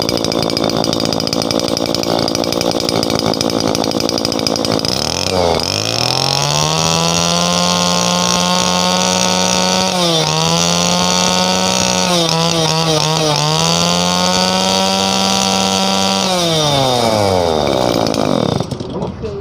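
The small two-stroke engine of a used Japanese Kawasaki TD-24 brush cutter, freshly fuelled, runs steadily at high rpm, then revs up and down several times with a loud buzzing whine.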